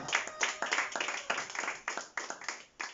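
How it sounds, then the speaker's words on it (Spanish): A church congregation claps in unison, with crisp, distinct hand claps in a quick, regular rhythm, close and fairly loud for about three seconds. "Denle un aplauso al Señor."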